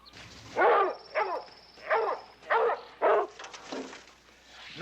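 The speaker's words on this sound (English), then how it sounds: "They got the dogs out." Tracking dogs bark in a series of about six sharp, loud barks at steady intervals, heard at moderate distance over faint background noise and a high whine.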